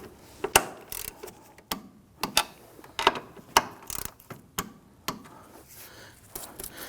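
Ratchet wrench clicking as it tightens the strut mount nuts on a 2001-2009 Volvo S60, with sharp close clicks arriving in short irregular bursts, no talking.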